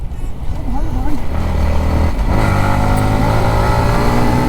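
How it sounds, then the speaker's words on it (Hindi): A stolen motorcycle is ridden away, its engine revving and holding a loud, steady drone close by, while voices shout over it. "वो बाइक लेके जा रहा है मेरी"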